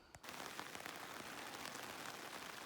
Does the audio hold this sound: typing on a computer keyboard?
no